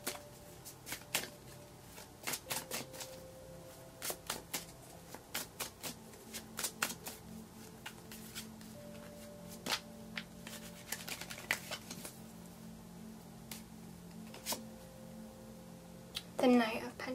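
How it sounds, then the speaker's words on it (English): Tarot cards being shuffled and pulled during a reading: repeated crisp riffling bursts in irregular clusters, close and fairly quiet, with a final louder flurry at the end and no talk over them. "I'm going to pull one more card to get information on that Seven of Cups."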